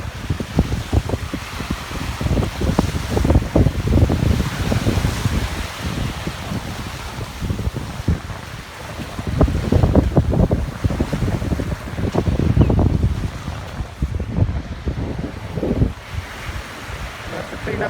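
Wind and ocean surf roll in steadily at the mouth of the Demerara River in Georgetown, Guyana, on the Atlantic coast, with loud gusts buffeting the microphone and broad waves swelling and fading throughout.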